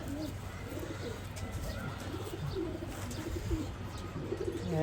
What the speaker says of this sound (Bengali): খুবই একটা এক্সপেন্সিভ একটা কবুতর